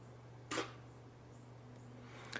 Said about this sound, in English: the sounds that you hear are actually the sounds of the shutter opening and closing